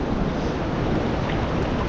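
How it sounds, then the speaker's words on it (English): Ocean waves washing steadily onto a beach at a razor clam dig as the tide comes in, a constant broad rushing roar with wind buffeting the microphone. "the waves just are not stopping"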